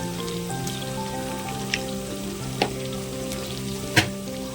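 Spices tempering in hot oil for bagara rice, a steady close sizzle and crackle with a few sharp pops and spatters, no talk.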